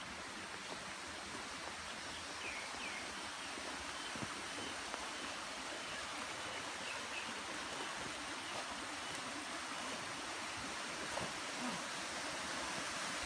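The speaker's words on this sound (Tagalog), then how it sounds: "So yung falls ay galing ho din sa right side." Steady rushing water from a falls at Himamawo Spring in Ibaan, Batangas, a constant broadband roar with no pauses, alone and fairly loud throughout.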